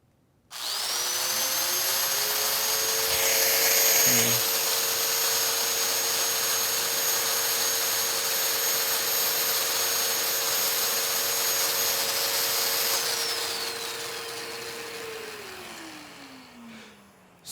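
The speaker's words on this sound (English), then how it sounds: "So it spins just like a drill bit or a router bit, but then this is wobbling back and forth." A Festool Domino joiner spins up with an attached dust extractor and runs as a loud, steady high-pitched whine for about twelve seconds before winding down.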